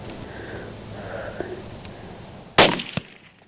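A single loud rifle shot cracks out during an African hunt, sharp and close, followed by a brief echo and a smaller knock, after quiet murmuring in the background.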